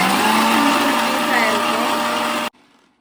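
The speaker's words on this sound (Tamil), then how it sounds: "ஸோ வந்து நல்லா பேஸ்ட்டாக அரைஞ்சிடணும்" A mixer grinder grinds carrot into a smooth paste for carrot idli batter, a loud steady whirring roar that runs for about two and a half seconds, then cuts off abruptly into near silence.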